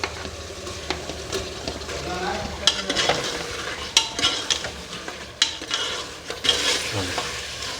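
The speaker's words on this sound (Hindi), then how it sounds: "अब मैं इसमें गोश्त उस वक्त तक भूनूंगी जब तक कि ऑयल ऊपर ना आ जाए।" Beef frying with onions in oil for a white qorma sizzles steadily, while repeated scraping and knocking stirring strokes sound against the pot up close, with no voices.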